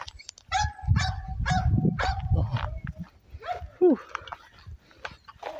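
Several sharp dog barks come in quick succession, fairly close, followed by a whine and quieter background sounds.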